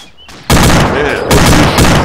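Heavy vehicle-mounted gunfire in the Arma-style military game Takistan setting, a loud close burst starting abruptly, pausing briefly, then resuming, with a faint voice before it.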